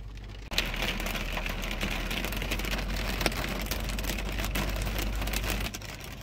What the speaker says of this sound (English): It's actually hailing now